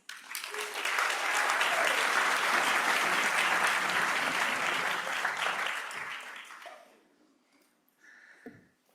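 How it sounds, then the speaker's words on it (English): Loud, sustained audience applause fills an Alcoholics Anonymous meeting room in Brentwood, Los Angeles, as a speaker is welcomed, holding steady for about six seconds before fading into quiet with a few faint stray noises. "Now let's welcome our speaker, Seamus."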